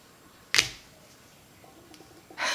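Scissors cut the curls of a kinky-edged hair unit, producing one crisp close snip followed by a second sharp cutting sound about two seconds later, with little else between them.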